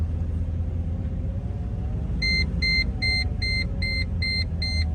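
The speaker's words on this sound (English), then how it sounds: "Put it into drive now. We are driving." A restored car drives along with a steady low engine rumble, and partway through a parking brake warning chime starts up, beeping in a regular repeating rhythm over the engine noise.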